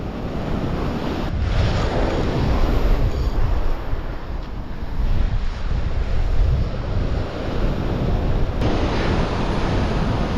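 Strong wind buffets the microphone on an ocean beach at sunset while surf rolls and crashes steadily in the background, a constant loud roar with no talking.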